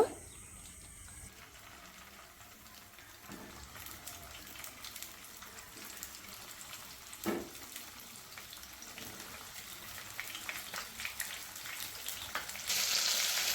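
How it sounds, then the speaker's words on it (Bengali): Quiet, steady crackle and sizzle of pointed gourds frying one by one in hot refined oil, with occasional sharper pops and a louder hiss near the end. "তারপর একে একে পটলগুলোকে আমি ভেজে নেব"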